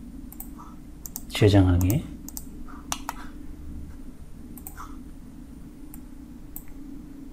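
Sharp mouse clicks come from working in Inventor CAD software, scattered single and double clicks at close range, with someone speaking briefly between them.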